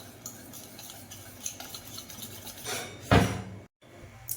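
Dhokla batter of gram flour is whisked in one direction in a bowl, making rhythmic scraping and tapping, then a loud knock against the rim before a brief silence.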